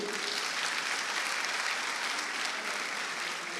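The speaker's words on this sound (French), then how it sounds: "Est-ce qu'on peut acclamer pour eux?" Steady applause fills a church as the congregation claps together, a dense, even patter of many hands held at one level throughout, with no voices standing out.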